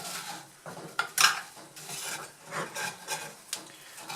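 Metal scraper dragging across dried sodium acetate crystals in a pan, close gritty scraping strokes in short uneven bursts with light clinks against the pan.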